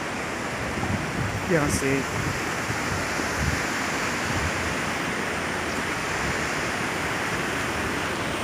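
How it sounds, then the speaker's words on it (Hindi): A water fountain in Kashmir splashes outdoors in a steady, broad rush of falling water, with a brief spoken phrase near the start over the spray. "एक फव्वारे की शक्ल इसमें दिखाई दे रही है।"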